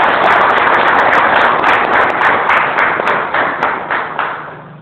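An audience at a Hindi-language public speech bursts into loud, close clapping that holds strong and then gradually thins and fades toward the end.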